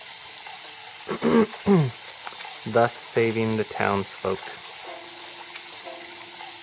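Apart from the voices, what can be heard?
water squirting from a hose in the video game Sprinkle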